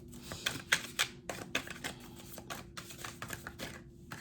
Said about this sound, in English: I'm just doing a little bit more shuffling on camera